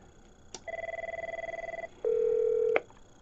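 Avaya 9508 office desk phone giving a two-tone dial signal after a speed-dial button press, then a steady lower tone, each clear and close, ending in a short click.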